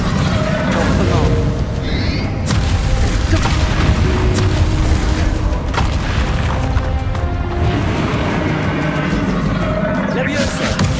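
Bombarda blast spell in Hogwarts Legacy combat: heavy, loud booms and crashes pile onto one another across a dense, chaotic battle soundscape that stays at full intensity for about eleven seconds.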